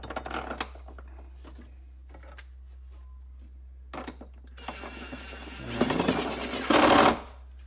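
A bolt is tightened on the 12V battery terminal of a first-generation Chevrolet Volt: a ratchet wrench clicks in short rapid bursts separated by pauses, ending in a louder, longer buzzing run, close and with no talk.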